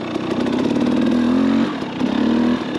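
A two-stroke motorcycle fitted with a Lectron carburetor revs hard in second gear, its buzzy engine climbing, dipping briefly, then rising again in two close, loud bursts without any talk.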